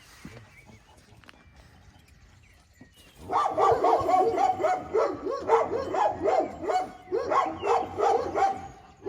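A Kangal dog barks near and loud in a rapid, repeated series after a quiet start, deep rhythmic woofs continuing for several seconds with no talking.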